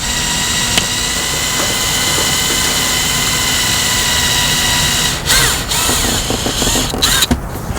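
A power drill bores into a surface at an angle, whining loud and steady up close, then stuttering into short bursts as the bit is eased in.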